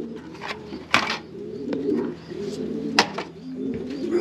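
Pigeons cooing in a backyard loft with cages, low throaty coos repeating steadily close by, broken by a couple of sharp knocks or flaps, with no talking.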